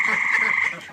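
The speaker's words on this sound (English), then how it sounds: "There's a tree frog very close. They're loud." A tree frog croaking very close and loud in a steady sustained trill, with waterfowl being rounded up nearby.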